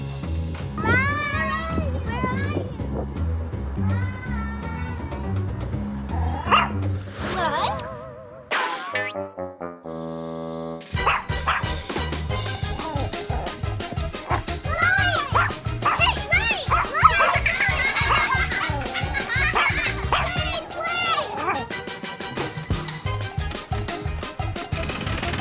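A puppy left outside during a hurricane barks and yips in quick bursts with a few whimpers, mixed with a child's and adult's speech and playful music.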